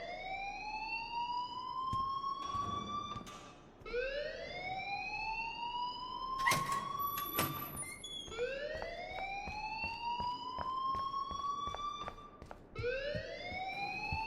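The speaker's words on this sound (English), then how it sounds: "please turn off that alarm" Electronic alarm blaring in the video game Life Is Strange, a loud repeating rising whoop that sweeps upward again and again, with a few short clanks and bangs mixed in.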